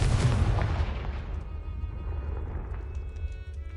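Confringo fire spell explosion in Hogwarts Legacy: a single loud booming blast at the start that decays into a fading rumble, with faint game ambience after.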